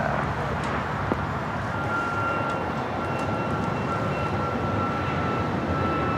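A Southwest Airlines Boeing 737 MAX 8 at LAX, bound for Phoenix, makes a steady broadband jet roar with a faint whining tone, heard at a distance and holding constant throughout without speech.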